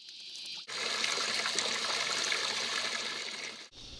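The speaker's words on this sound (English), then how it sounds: "I opened the valves and filled the bath." Water gushes steadily from opened valves into an outdoor bathtub at a shipping container house, a loud close rush that starts abruptly and cuts off after about three seconds.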